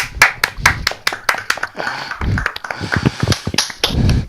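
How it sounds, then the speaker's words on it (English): A few people clapping in quick, sharp bursts, uneven and nearby, with brief vocal sounds mixed in toward the end. "I think you deserve a round of applause, perhaps."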